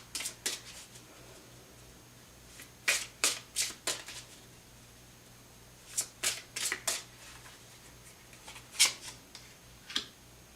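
Tarot cards are shuffled by hand nearby in crisp, scattered bursts of riffling and slapping, several quick flurries separated by short pauses over a faint steady hum, with no talking.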